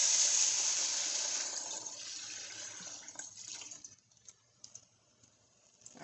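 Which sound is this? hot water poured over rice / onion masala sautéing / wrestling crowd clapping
hot water poured over rice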